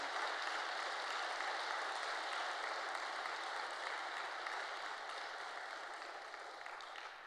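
Church congregation at a testimony service applauds a violinist and two young performers, a dense, steady wash of clapping held at an even level for several seconds before easing slightly at the end.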